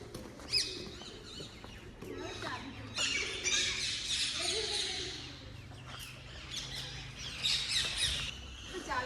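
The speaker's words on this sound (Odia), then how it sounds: "ଦେଖନ୍ତୁ ଶୁଆଗୁଡ଼ା ଛୁଇଁବୁନୁ କାମୁଡ଼ି ଦେବେ।" Parrots squawk and screech in repeated harsh bursts close by, loud clusters of calls rising and falling over steady background noise, with a voice talking in the background at an aviary in Rajasthan.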